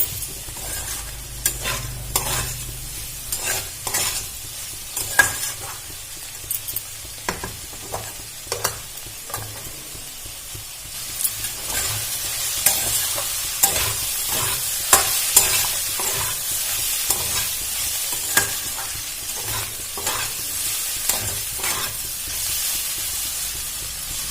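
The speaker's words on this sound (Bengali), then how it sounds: "আমি টমেটো আর কাঁচা লঙ্কাটা দিয়ে দিলাম, দিয়ে আবারও ভালো করে নাড়াচাড়া করে ভেজে নেব" Tomato and green chillies stir-fry in a pan for Bengali bitter gourd chorchori, with a continuous hissing sizzle broken by frequent sharp spatula knocks and scrapes, close and busy throughout.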